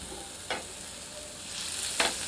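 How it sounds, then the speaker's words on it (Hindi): A flat patty of seasoned minced meat sizzles steadily on a greased griddle, with a soft continuous fry and two short bursts of louder crackle about a second and a half apart. "सीजन्ड कीमे से बनाई फ्लैट पैटी को ग्रिल तवे पर रखते हैं।"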